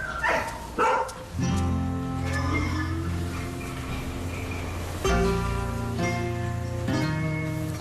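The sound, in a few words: herd guard dogs barking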